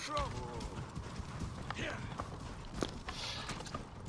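Horse hooves clip-clop in a steady walking rhythm in the Assassin's Creed Origins game world, a moderately close and busy patter mixed with game ambience and a voice speaking over it.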